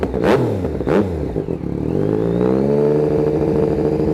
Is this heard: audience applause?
no